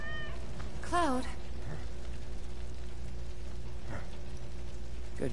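A single drawn-out cat meow from Final Fantasy VII Remake sounds near the start, over steady game ambience with soft rain-like patter and a low hum, followed by quieter background noise.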